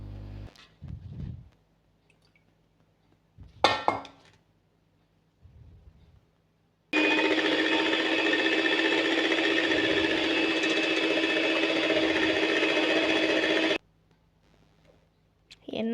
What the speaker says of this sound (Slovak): pôjdeme šľahať žltok a do neho pridáme 5 polievkových lyžic cukru